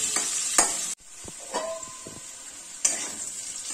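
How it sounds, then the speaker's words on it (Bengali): Potatoes frying in a pan, a soft sizzle broken by the clicks and scrapes of stirring, fairly quiet and close. "এরকম করেই আলুগুলোকে একটু লাল লাল করে ভেজে"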